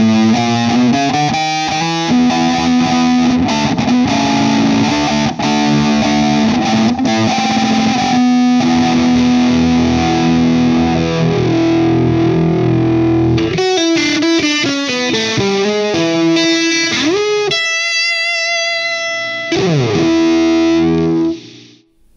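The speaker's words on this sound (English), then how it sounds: "that's the volume phaser. Of course, it is a volume pedal" Distorted electric guitar played through a Morley Volume Phaser pedal, loud riffs and sustained chords with sweeping phase swirl, shifting texture and a brief high chiming passage near the end.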